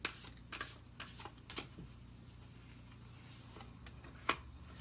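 Oracle cards are shuffled by hand in a few quick papery riffles and rustles early on, followed by quieter handling and one sharp flick near the end.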